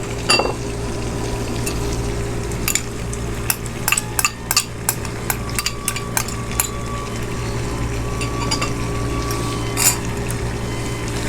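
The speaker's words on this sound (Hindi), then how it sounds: "और गोश्त को अच्छे से फ्राई करेंगे।" Mutton frying in a pan with garlic ginger paste gives a constant loud sizzle, broken by a series of sharp clinks and scrapes from stirring.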